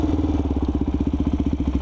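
Motorcycle engine idling steadily after earlier stalling and sputtering, a close, loud, even rhythmic chugging pulse with no voices.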